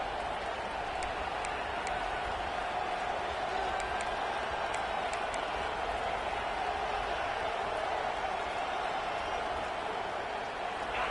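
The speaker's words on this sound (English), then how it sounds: "Crowd getting this defense whipped up on 3rd down" A football stadium crowd roars steadily at Ole Miss during a third-down defensive stand, a dense, sustained wash of cheering that holds level throughout, with faint whistles or shouts poking through near the start.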